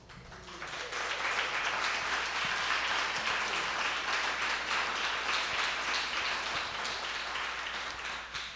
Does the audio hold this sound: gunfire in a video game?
no